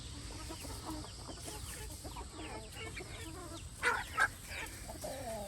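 Backyard chickens in a big coop before rain cluck and murmur steadily at a moderate distance. Two sharper, louder squawks rise out of the flock near the end, with no talk.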